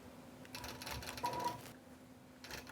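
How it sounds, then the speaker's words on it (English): A sewing machine stitches along the binding edge of a quilt in a short, quiet run of rapid mechanical stitching lasting about a second, with a steady hum beneath and a brief burst again at the end. "I'm going to stitch along that edge"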